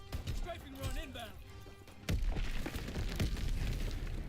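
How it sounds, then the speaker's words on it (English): Strafing-run explosions in the World War II shooter Call of Duty: WWII: a voice talks over quiet game noise, then a sudden loud, heavy blast hits partway through and gives way to continuing rumbling, crackling barrage. "Strafing run inbound."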